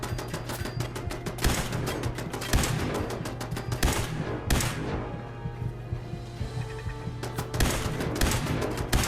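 Turret gunfire in the Fallout 4 video game rattles in rapid bursts of sharp shots, dense volleys separated by brief lulls, moderately loud with no voices.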